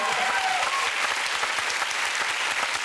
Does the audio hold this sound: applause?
yes